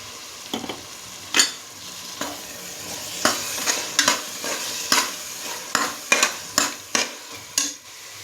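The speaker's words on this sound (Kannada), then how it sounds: "ಸ್ವಲ್ಪ ಹೊತ್ತು ಫ್ರೈ ಆಗಲಿ ಕಡಲೆಬೇಳೆ ಮತ್ತು ಅಕ್ಕಿ" Soaked chana dal fries in a hot pan while a spoon stirs it, giving a steady low sizzle broken by repeated scraping clinks against the pan, close and fairly loud, with no voices.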